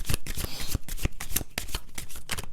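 A rapid run of crisp tarot card riffles and flutters, close and fairly loud, with short pauses between bursts of shuffling.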